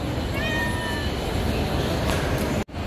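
Pet cats arriving in the Philippines after travel meow repeatedly and loudly over a busy, noisy background, with a sudden brief cut near the end.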